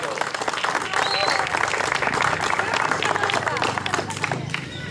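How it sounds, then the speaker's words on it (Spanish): Loud, dense applause and cheering from the crowd at an awards ceremony for a marathon, steady and close throughout, with voices shouting over it. "Un aplauso"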